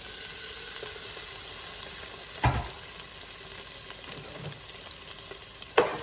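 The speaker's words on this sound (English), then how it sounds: "I'm just going to cook the onions until they're opaque" Onions, with a little garlic, fry in a pan with a steady close sizzle throughout, broken by a couple of brief stirring clatters.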